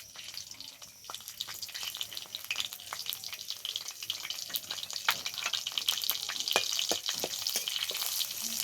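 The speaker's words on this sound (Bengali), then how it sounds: "দিয়ে দিচ্ছি ফোড়ন। ফোড়নে আছে জিরে আর শুকনো লঙ্কা।" Cumin seeds and dried red chillies fry in mustard oil in a kadai, the crackle starting faint and building to busier spitting and popping, with occasional sharp clicks.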